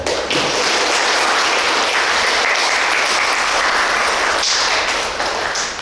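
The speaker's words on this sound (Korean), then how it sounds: "여러분들을 위해서도 박수를 한번 치면 좋을 것 같아요" A film festival audience at a post-screening talk claps in a loud, dense burst that stays steady throughout and eases slightly at the very end.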